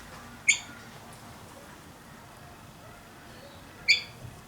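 A pet bird named Peter gives two short, sharp squawking chirps a few seconds apart in a quiet indoor room, each a bright clipped call standing out from faint background noise.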